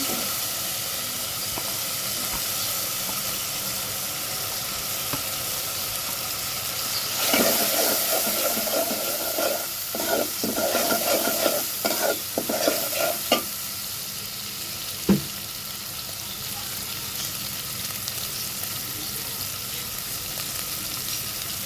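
Whole prawns dusted with turmeric sizzle steadily in a hot pan, broken midway by a run of scraping, clattering stirs before the frying settles back to an even hiss.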